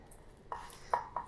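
Cardamom pods are smashed for a lamb biryani in three quiet, sharp knocks spaced a fraction of a second apart, heard close up against near silence.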